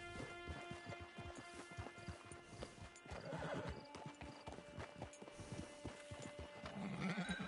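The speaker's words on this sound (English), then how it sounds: "It's your horse." A horse in the Red Dead Redemption 2 video game clip-clops at a walk with steady hoofbeats and lets out a whinny, with music-like tones behind it and faint ambient bleats, fairly quiet overall.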